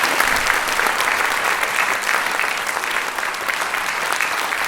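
A hall audience applauds continuously at a town medal ceremony in Chelles honoring a citizen, steady, dense clapping at full volume throughout.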